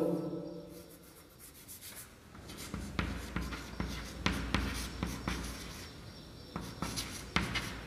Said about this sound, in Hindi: हम अगले छंद में इसका वो लिखते हैं